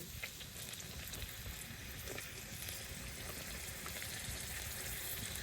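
Snakehead (gajar) fish frying in hot oil, a steady dense sizzle and crackle held at an even level throughout, fairly faint and with no voices.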